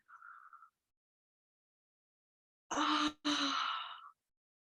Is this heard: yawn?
yes